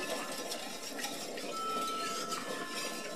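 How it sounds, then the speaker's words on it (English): A spoon stirs pickled egg brine in a metal pot, a continuous swishing with light clinks against the sides, fairly quiet and close, with no voices. "Stir that in."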